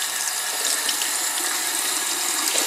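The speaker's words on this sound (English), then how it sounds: "run the brush under the water" A brush is rinsed under a running tap, with a steady hiss of flowing water splashing into a sink, close and continuous for a couple of seconds with no voices.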